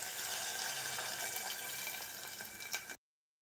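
Water pours into a pan of upma in a steady, soft trickle and splash, close and fairly quiet, lasting about three seconds before stopping abruptly.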